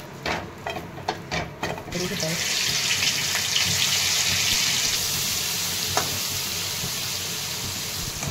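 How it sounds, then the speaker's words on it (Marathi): Cashews fry in oil in a kadhai: a few soft clatters at first, then a steady, fairly loud hiss and sizzle that holds to the end. "काजू परतून घेते थोडेसे, काजू आता काढून घेते।"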